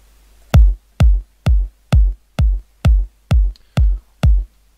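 A punchy electronic kick drum thumps nine times at a steady, even pulse, deep and booming with short decays, alone without other instruments.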